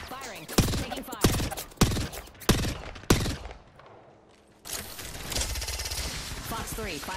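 Gunfire in an aerial combat video game: several loud bursts of rapid shots in a row, a brief lull, then a long sustained roar of firing.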